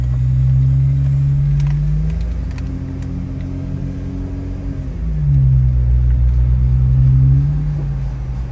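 A wrecked Jeep Wrangler being driven, its engine rumbling low and close, revving up twice with a steady droning tone between, no talk over it.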